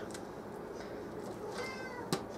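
A pet cat meows a few times indoors in a kitchen where chicken wings are being prepared, the short cries fairly quiet against a low background hum.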